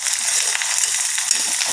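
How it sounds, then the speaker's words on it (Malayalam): Slit green chillies frying in hot oil, a steady crackling sizzle with dense fizzing spatter throughout, close and even, with no talk. "ഈ പച്ചമുളക് നടുവ് കൂടെ കീറിയിട്ട് എണ്ണയിൽ പൊരിക്കണം."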